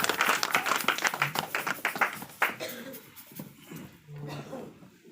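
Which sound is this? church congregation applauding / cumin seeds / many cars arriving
church congregation applauding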